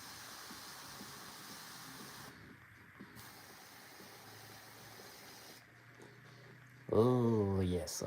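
Airbrush spraying paint on a Warhammer miniature gives a faint, steady airy hiss that pauses briefly twice, followed by a louder burst near the end where someone speaks over it.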